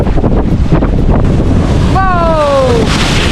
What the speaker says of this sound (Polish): Woda się przelewa przez rafę.